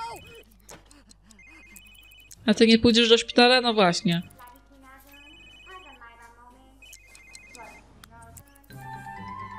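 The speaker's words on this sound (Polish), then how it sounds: "No jeszcze telefon do niej dzwoni." A phone in The Sims 3 rings in short repeated electronic bursts, loud and close, while someone speaks over and between the rings.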